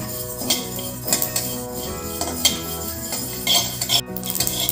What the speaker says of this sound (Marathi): तडतड आवाज येतोय.